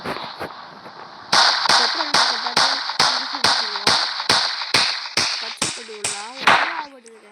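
Video game gunfire: a dozen or so sharp, evenly spaced shots crack out in a steady rhythm, loud and close, after a short quieter lead-in.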